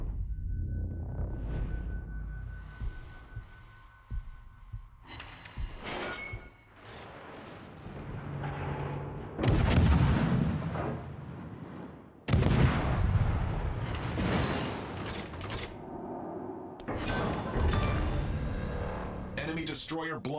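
Naval gunfire booms and heavy explosions as an enemy destroyer is blown up in the World of Warships video game, a series of loud, deep blasts with rumbling decay, spaced across the span over a busy game soundscape.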